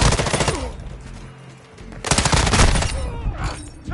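Call of Duty Modern Warfare 2 gunfire rattles in loud, close automatic bursts, two heavy volleys separated by a brief lull with radio-style game chatter.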